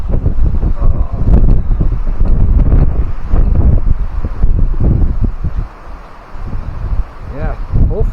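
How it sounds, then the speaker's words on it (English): Strong wind gusting at a mountain lake, a steady loud rumbling roar of buffeting against the microphone that dips briefly near the end, with a voice talking faintly underneath. "you might not be able to hear me because of this wind"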